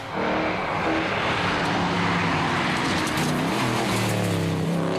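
Peter Brock's race car at speed on a circuit, a loud, steady engine roar with shifting pitch as it revs and changes gear, close and continuous throughout.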